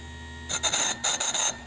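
A file rasps across a chainsaw chain in two quick bursts of three short, bright scraping strokes, loud and close, with no talking.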